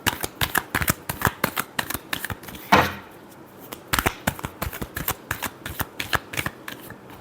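Tarot cards being shuffled close up, a rapid run of crisp riffling flicks with one louder bridge-like riffle midway, the flutter continuing steadily to the end with no voices.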